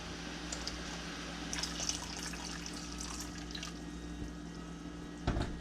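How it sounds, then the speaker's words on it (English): Water is poured into a canning pot holding jars of home-preserved tomatoes, making a steady low rush with light splashing and trickles that runs continuously at close range. "So I'm going to add just a little bit more water."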